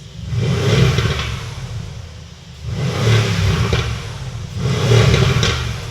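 A Mercedes-Benz V8 SUV in Sport Plus mode revs hard three times in a row, each deep roar swelling and falling back to a rumble between bursts.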